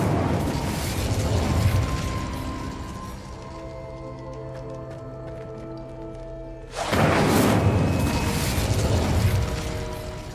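A fiery spell cast in the Hogwarts Legacy video game bursts out as a loud, broad whoosh and roar that flares suddenly after a quieter humming stretch, then sustains for several seconds.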